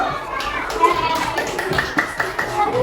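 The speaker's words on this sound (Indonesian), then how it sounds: "tepuk tangan dulu" Children in a classroom clap their hands during a lesson, a scattered and uneven patter of claps mixed with lively young voices and chatter.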